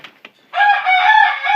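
Homestead chickens: a couple of short clucks, then a loud, close rooster crow held for over a second.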